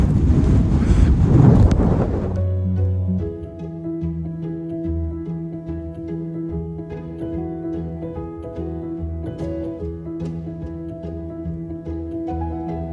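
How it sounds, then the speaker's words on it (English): Strong wind gusts buffet the microphone on the open Malvern Hills, loud and rough for about two seconds before easing into a steadier, quieter outdoor hum. "It's just nice being out in the wind."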